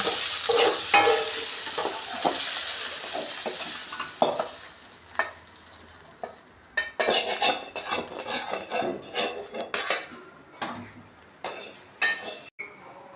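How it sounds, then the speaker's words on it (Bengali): A utensil repeatedly scrapes and stirs fried potatoes and vegetable stems in a pan, with sharp clinks against the metal over a steady background sizzle. "আমার আলু আর ডাটা ভাজা হয়ে গেছে এখন আমি নামিয়ে নেব"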